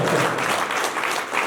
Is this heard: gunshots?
no